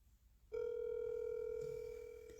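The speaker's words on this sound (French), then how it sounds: "je vais appeler quelqu'un qui va intervenir là tout à l'heure" A steady telephone dial tone starts abruptly and holds at an even, moderately loud level while a French call-in radio show rings a caller, with faint background murmur underneath.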